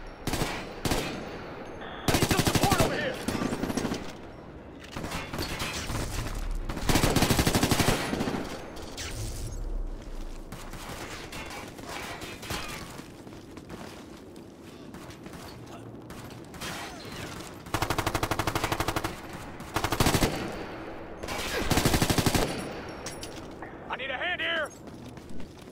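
Gunfire fills a Ghost Recon: Future Soldier 6v6 multiplayer match, with repeated bursts of automatic fire and mechanical clatter, loud and near, while voices talk over the combat.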